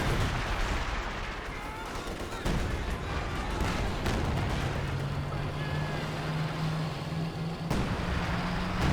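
Artillery and cannon fire in a Company of Heroes 2 battle, a dense roar of booming shots and explosions with rumbling engines throughout, loud and continuous.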